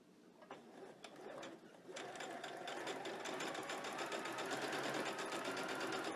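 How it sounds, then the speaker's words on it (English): Close sewing machine stitching dress fabric, opening with a few slow stitches and then settling into a steady, rapid mechanical whir that holds to the end. "They want you to go ahead and run a stitch up to this mark right here."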